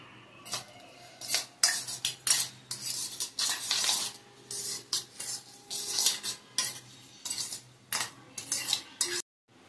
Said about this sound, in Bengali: এটাকে মেখে নিতে হবে।